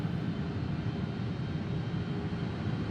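Embraer E-195 jet engines at takeoff power during the roll in X-Plane 12, a loud continuous low rumble and roar with a steady hiss above it.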